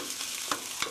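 Spicy seasoned chicken being stirred in a pan with the heat off, a soft sizzle with a few quick scraping strokes of a utensil, close and brief.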